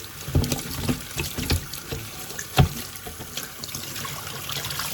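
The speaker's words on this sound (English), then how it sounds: "This is my kitchen and I'm washing the grapes." Tap water runs into a kitchen sink while grapes are washed, giving a steady close splashing with irregular louder splatters and clatters as the fruit is handled.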